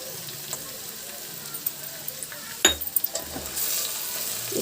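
Ginger garlic paste added to browned onions frying in a pan over high flame for cabbage curry, a soft sizzle punctuated by light stirring taps, then a louder burst of spattering as the paste hits the oil.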